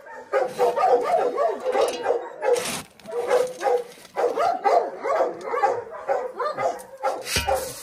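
Several dogs barking and yipping excitedly while being fed, repeated close barks in bursts with short pauses, some whimpering mixed in.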